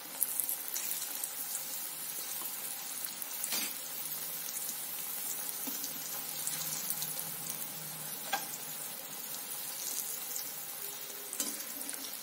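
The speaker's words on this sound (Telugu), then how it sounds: "గులాబ్ జామున్స్ వేయిస్తున్నాను" Sweet potato gulab jamun frying in hot oil in a home kitchen, giving a steady dense crackling sizzle across the whole stretch with a few soft clinks and bumps of stirring, close and even, with no talking.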